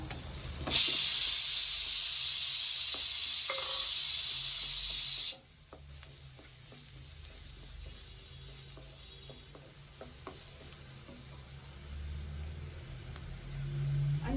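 Ginger garlic paste hits a hot pan while a squid roast is being cooked, setting off a loud, steady hiss for about five seconds. The hiss then drops abruptly to a faint, low crackle that continues in a quiet kitchen.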